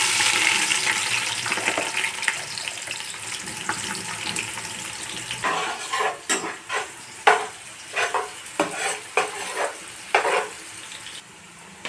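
Onions tossed into hot oil for a curry, a broad steady sizzle that later breaks into a run of sharp stirring scrapes and spatters in a home kitchen, with no talk.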